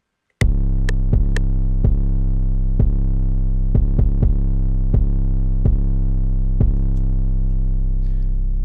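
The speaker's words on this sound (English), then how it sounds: "So I'm gonna show you what it sounds like when you add the distortion on there." Distorted 808 bass in FL Studio, a deep buzzing tone struck about a dozen times in an uneven pattern, each hit sustaining and overlapping the next, loud and alone.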